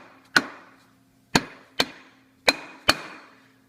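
A Yamaha YZ85 engine case cover sealed with gasket maker gets tapped loose with a non-metal hammer, five sharp, close knocks at uneven intervals, each ringing briefly into quiet.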